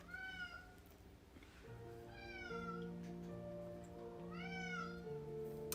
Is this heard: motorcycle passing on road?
no